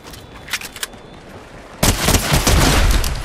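Gunfire in Fortnite during the Pandora's Box live event: a few distant sharp shots at first, then a sudden loud burst of rapid, sustained firing that keeps going to the end.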